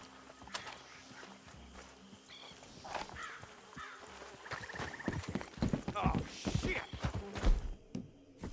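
Horse hooves clip-clopping in the Red Dead Redemption 2 video game, a loose, uneven rhythm of steps that grows busier toward the end, mixed with game ambience and occasional clanks beneath people talking.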